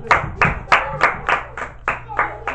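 A church congregation claps for Jesus Christ in steady, unison rhythm, about eight sharp, loud, close claps spaced evenly, with no talking over them.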